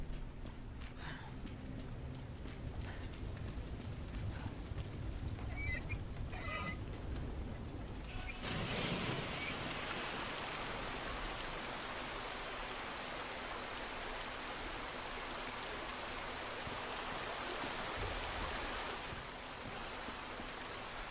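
Water rushing in Resident Evil 2 Remake after the pressure is redirected: faint scattered noises give way to a sudden steady broadband stream of flowing water that persists at even strength.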